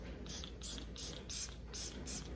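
A makeup setting spray pump bottle fires in a series of about five short hissing bursts, evenly spaced and close by, with no talking.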